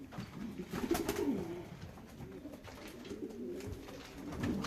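Racing pigeons at the loft after a 359 km race from Mlawa give low, rolling coos that swell and fade in soft overlapping bursts, fairly close and quiet, with no talking.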